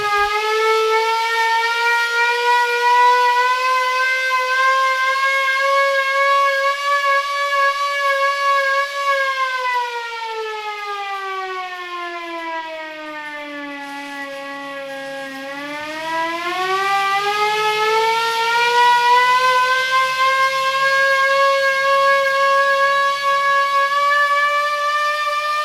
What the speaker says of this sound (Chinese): 我们就用这个手持式的军用的报警器，咱们来拉响。